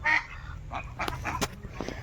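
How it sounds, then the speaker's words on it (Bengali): Ducks call in a series of honking quacks, fairly close and loud, with a low rumble of wind or water running underneath. "এখানটায় দেখো হাঁসগুলো আওয়াজগুলো আমি শোনাবো"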